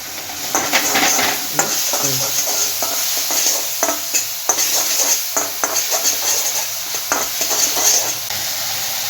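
Vegetables stir-frying over high heat for veg manchurian: a constant loud sizzle broken by frequent scraping and clanking of a utensil against the pan.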